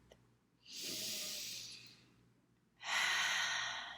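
Two slow, deep breaths sound close and quiet: a long airy inhale, a pause, then a second strong breath, with no voice over them.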